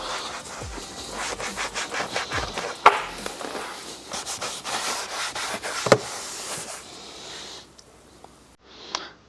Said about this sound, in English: Now let's wipe away the residue.